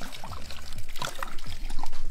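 Silver rum pours into a jungle juice punch, a close, steady trickle and splashing of liquid with a few small bubbling spurts, heard alone.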